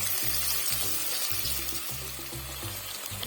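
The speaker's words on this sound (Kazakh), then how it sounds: "Енді үстіне шамалап су құйып" Water poured into a pan over stuffed cabbage rolls with fried carrot and tomato paste gives a steady splashing hiss for the whole stretch, with a low rhythmic hum pulsing underneath.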